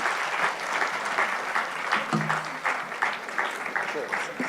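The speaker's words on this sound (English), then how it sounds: "let's give us a round of applause to our panelists" A forum audience gives the panelists a sustained round of applause, a full, even roar of clapping hands that holds throughout, with a few voices faintly mixed in.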